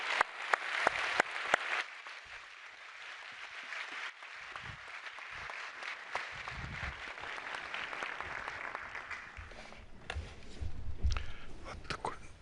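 A lecture-hall audience applauds as Nobel chemistry laureate Dr. Susumu Kitagawa is welcomed onto the stage. The clapping is sustained and moderately distant, with louder bursts at the start and end.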